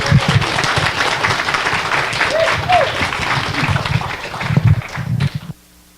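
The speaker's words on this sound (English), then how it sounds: "You all deserve a round of applause." Loud, full audience applause at a fellowship gathering, dense and sustained clapping with a brief voice rising over it, then cutting off abruptly.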